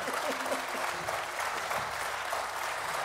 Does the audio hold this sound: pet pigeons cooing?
no